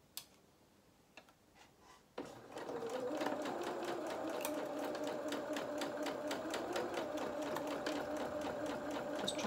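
A sewing machine stitches forward and back through a fabric toy rabbit's boot, a steady close-up mechanical whir with fine ticking that starts after a couple of seconds of quiet handling clicks.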